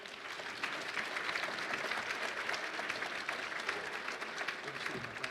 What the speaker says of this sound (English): Would you please give a round of applause for Mr. Eric Klimes.